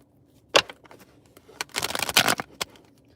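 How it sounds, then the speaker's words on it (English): Tarot cards being shuffled by hand: soft scattered riffles and flicks, then a denser run of quick crisp card snaps before one last flick, quiet and close with no speech. "I'm going to shuffle these cards up"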